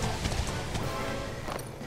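Horse hooves clip-clop in the role-playing game Dragon Quest XI, a quick run of clattering footfalls over a busy background, fairly near and moderately loud.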